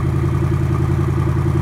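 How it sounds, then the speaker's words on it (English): A 2018 Ford Mustang GT idles with its stock exhaust in standard mode, a steady, deep, rhythmic burble close by, even in loudness and without voices. "Right now it's just on the standard exhaust mode"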